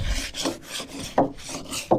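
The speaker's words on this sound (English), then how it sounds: "I'm actually just sanding them with all the pollen and tree matter in there" Hand sanding a plywood tank: rhythmic rasping strokes back and forth, close and steady, with a sharper scrape every few strokes.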